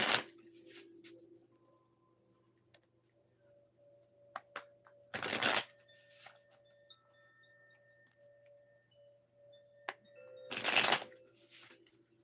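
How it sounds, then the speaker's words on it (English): Tarot cards being shuffled by hand in two short, crisp riffling bursts separated by several seconds of near silence with a faint low hum. "I'm going to shuffle 6 times."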